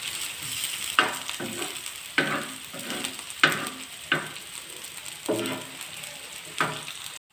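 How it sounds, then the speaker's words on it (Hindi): Crushed ginger and garlic fry in a pan with a steady sizzle, punctuated every second or so by sharper bursts as the mixture is stirred, close and clear with no talk. "कुटा हुआ अदरक लहसुन। इनको अच्छे से फ्राई कर लेना है।"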